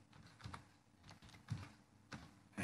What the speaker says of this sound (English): I am typing something.